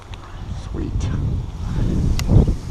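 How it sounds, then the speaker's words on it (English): Strong wind on a lake during kayak fishing rushes steadily past the microphone, a continuous low buffeting that swells toward the end, with faint voice-like sounds mixed in. "the wind is so bad"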